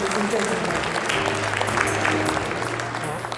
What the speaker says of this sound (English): Please welcome him with a big round of applause, ladies and gentlemen.